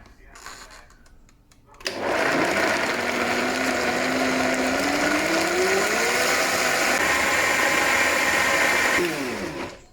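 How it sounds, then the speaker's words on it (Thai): A loud, high-speed blender mixing grain cake batter whirs steadily after a brief quiet start, its motor pitch shifting slightly as it runs, then winds down at the end. "เราก็จะใช้เครื่องปั่นที่ค่อนข้างแรง"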